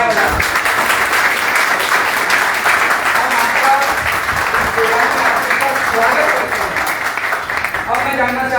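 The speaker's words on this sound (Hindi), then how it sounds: "तालियां बजा।" A seated audience of associates at a business meeting breaks into loud, continuous clapping to welcome guests, a dense crowd applause close by, with voices and cheers mixed in toward the end.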